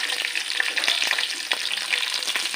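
Fish pieces hit hot oil for a fish pickle and fry with a steady, close crackling sizzle and a few brief stirring scrapes, with no voices.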